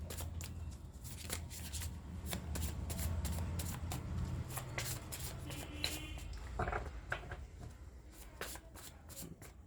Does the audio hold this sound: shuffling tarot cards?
yes